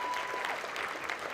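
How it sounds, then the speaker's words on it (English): A short burst of audience applause rings out at a Boys and Girls Club Youth of the Year event as Rhea Richardson is welcomed, moderately loud and uneven, with a faint whistle or cheer. "Yay, round of applause for Rhea"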